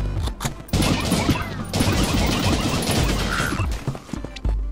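Dense, loud gunfire from the video game Juicy Realm, rapid overlapping shots forming a near-continuous barrage across the whole stretch with only brief dips, no talking.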